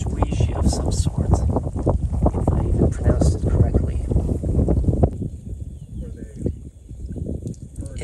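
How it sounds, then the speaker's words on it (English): Strong gusty wind in the Carolina Sandhills National Wildlife Refuge buffets the microphone in heavy rumbling bursts, easing briefly before picking up again. "It is a windy day."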